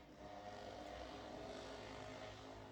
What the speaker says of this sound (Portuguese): passa a moto lá na rua e dá esse barulhão